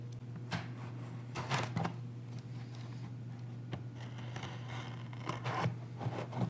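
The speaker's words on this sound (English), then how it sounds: "I'm just gonna slice those open very carefully." A blade slices the tape on both edges of a windshield protection film box, giving a few short scratchy cuts and scrapes over a steady low hum, close and fairly quiet.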